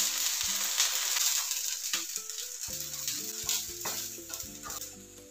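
Oil sizzles around a gram flour dhirde pancake frying in a pan over a medium flame, a bright continuous crackle that stays fairly loud, with faint stirring and a low tonal background beneath.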